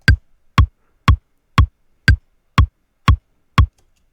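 Steady metronome-style clicks paired with kick drum hits in Ableton Live, eight evenly spaced punchy beats about half a second apart, loud and isolated with no talk.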